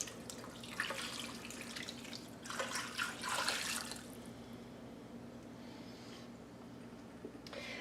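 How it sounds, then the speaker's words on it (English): Chicken broth pours into a crockpot over chicken with a soft, gurgling splash in a few bursts, then trails off into quieter dribbles and a faint background hum. "I'm going to take some chicken broth, pour that in over the chicken."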